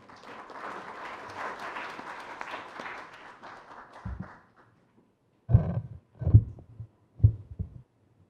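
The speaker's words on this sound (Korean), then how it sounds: "뜨거운 박수 부탁드립니다." An audience at a Korean parliamentary forum applauds a speaker to the podium, a soft, diffuse patter of clapping that fades out after four seconds, followed by a few dull, heavy thumps.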